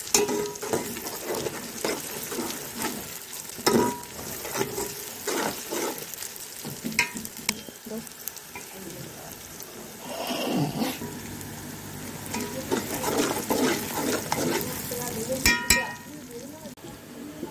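Onions fry in a pot for a homemade chicken pulao, a loud, steady sizzle with frequent stirring scrapes and clinks of a spoon against the pot, close and continuous for the whole stretch.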